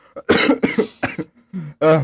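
Several harsh, close coughs in a quick burst from a person who is unwell, each a short rough bark with brief pauses, ending in a final hoarse cough.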